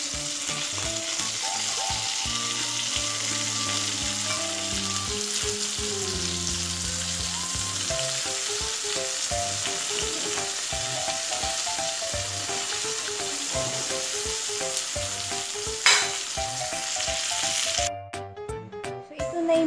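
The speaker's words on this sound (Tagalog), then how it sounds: "ito yung piniprito natin yung talong" Eggplant slices frying in oil in a pan give a steady, close sizzle throughout, with background music playing beneath and a brief burst of clattering near the end.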